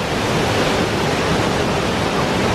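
The waterfall in Corrieshalloch Gorge, Scotland, makes a steady, dense roar of rushing water that stays constant throughout, with no voices.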